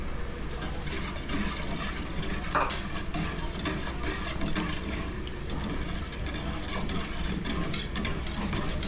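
Cornstarch stirred into a pot of soup at home, a steady scraping and swishing with faint sizzling that continues without pause under a busy, noisy kitchen background.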